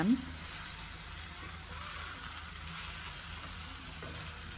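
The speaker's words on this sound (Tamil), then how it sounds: "இப்போது இந்த முட்டையை இந்த மாதிரி லைட்டாக மிக்ஸ் பண்ணி விட்டுக்கோங்க." Boiled egg halves are gently mixed into spicy frying masala for egg thokku, a soft steady sizzle running throughout with a quick metallic clink at the start, faint and close.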